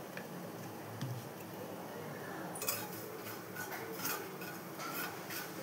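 Dry chilies, cumin and poppy seeds are stirred while roasting in a dry wok, giving faint, scattered metallic clinks and ticks of a utensil against the pan over a low background hiss.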